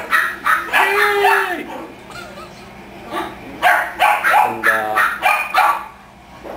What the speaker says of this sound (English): He's either a Boston Bulldog or a French Bulldog